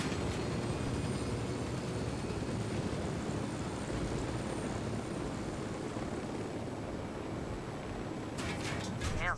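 A helicopter in the video game Ghost Recon Wildlands gives off a steady, dense rumble that stays loud and unbroken throughout, with a few brief sharper sounds near the end.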